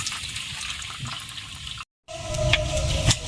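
Lentils being washed in water for cooking, with a continuous close splashing and running-water wash, broken briefly by a short gap of silence, then resuming slightly louder.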